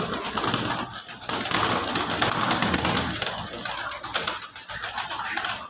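High flyer pigeons coo in soft repeated throaty calls close by, with a steady hiss of background noise underneath.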